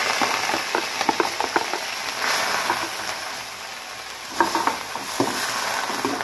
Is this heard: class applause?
no